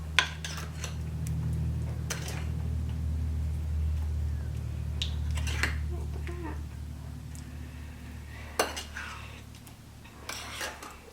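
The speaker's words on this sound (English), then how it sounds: "I'm mixing this in thoroughly, because if I don't, it won't really be a filling" Pie filling stirred in a bowl, soft scraping and rubbing with sharp clinks of a utensil against the bowl, close and fairly quiet over a low steady hum.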